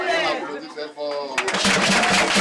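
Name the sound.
applause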